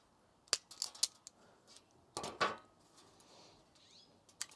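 Scissors or cutters snip through three wires while installing keyless entry on a 2001-2004 Tacoma, giving a few sharp, close clicks in two small clusters against a quiet background.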